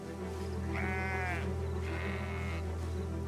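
Two quavering sheep bleats in the video game Valiant Hearts, one after another, sound over a steady low hum and background ambience.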